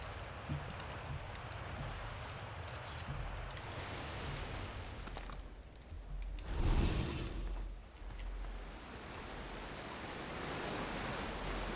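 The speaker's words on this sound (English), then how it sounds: "the waterfall is a little loud" A waterfall in the video game Outer Wilds rushes as a steady, dense broadband roar, continuous and fairly loud throughout, with a brief low swell midway.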